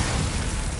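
A Bombarda spell blast from the Hogwarts Legacy video game, a dense, loud burst of noise that fills the whole short moment with a rumbling low end.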